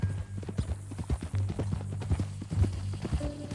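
Horse hooves clip-clop steadily at a walking pace in Red Dead Redemption 2, close and rhythmic over a low steady hum, with a faint tone entering near the end.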